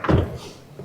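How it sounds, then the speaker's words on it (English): The electric door of a 2025 Avatr 06 car gives a short soft thunk as it operates, followed by a faint fading mechanical hum, close and brief. "So it got the electric door."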